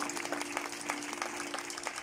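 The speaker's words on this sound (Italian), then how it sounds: "Io farei un applauso" Steady, fairly soft applause from an audience clapping for a poet at an outdoor folk song and storytelling evening in a town square in Zollino, with a continuous low hum running beneath the claps.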